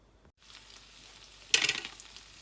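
Curry paste stir-frying in hot oil for a Thai mushroom curry, a soft faint sizzle that jumps into a brief louder burst of crackling as it's stirred.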